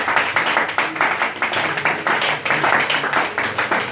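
A church congregation claps in acclaim of Jesus during a worship service, steady rhythmic handclaps, loud and close, about four claps per second, with no speech over them.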